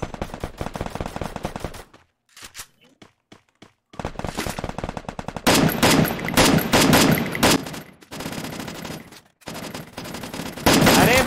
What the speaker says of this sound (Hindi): कर दिया साले ने फायर।